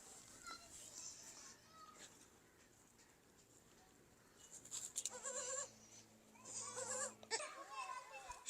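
A goat and her three newborn kids bleat in a farmyard in the evening. Thin, shrill cries come in short bursts, with a louder cluster near the end, over quiet background chatter and some talking.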